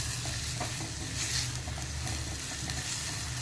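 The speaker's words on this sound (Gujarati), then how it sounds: "હવે તેલ થઈ ગયું છે આપણું, એટલે થોડીક રઈ એડ કરી દેવાની" Mustard seeds, dry red chilies and cinnamon sizzle in hot oil for a dhaba-style dal fry, a dense steady hiss with faint crackles and soft stirring scrapes, close and unbroken, no talking.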